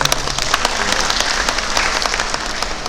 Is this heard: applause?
yes